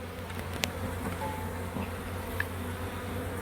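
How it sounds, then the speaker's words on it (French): Honeybees swarming and climbing into a hive, a steady low insect buzz running throughout with a couple of brief closer wingbeat passes, no voices. "il y a un sacré paquet d'abeilles"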